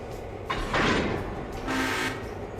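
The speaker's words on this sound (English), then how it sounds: "Wait till it couples, you'll hear it." Train cars coupling in a railroad video game, two metallic clanking bursts with a hissing screech about a second apart over a low rumble.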